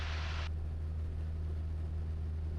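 A light aircraft engine at takeoff power produces a steady, dense drone with a low hum throughout, while a brief hiss at the start cuts off and no one speaks.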